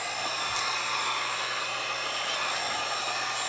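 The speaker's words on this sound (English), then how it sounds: "It takes a couple seconds for this heat gun to come alive." A heat gun used for shrink-wrapping 18650 battery cells runs with a steady, close blowing hum and fan whine, unbroken throughout.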